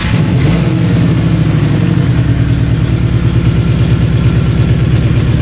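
A Honda CD200 motorcycle engine runs with the choke held out, idling loud and close with a steady, fast chugging pulse and a brief bump in revs at the start.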